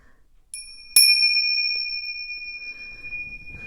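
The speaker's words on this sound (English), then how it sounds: "I am going to use the bell, so if it sounds very loud, I apologize." A small bell rung before a tarot reading gives two bright strikes, the second louder, followed by a long clear ringing tone that slowly fades; a faint rustle is heard near the end.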